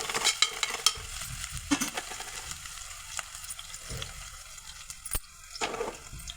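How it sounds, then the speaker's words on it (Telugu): Goat head curry being stirred and fried in a pan over low heat, with a continuous close sizzle under repeated scraping and clinking stirring strokes. "సన్న మీద వేయించుకోవాలి కలుపుకోవాలి ఒకసారి"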